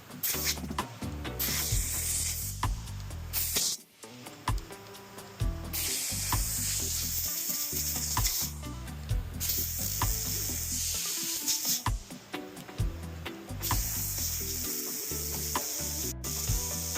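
Compressed air blasts out a clogged part from a STIHL MS201TC chainsaw during an engine rebuild, loud hissing bursts in several long spurts separated by brief pauses, with clattering handling noises between.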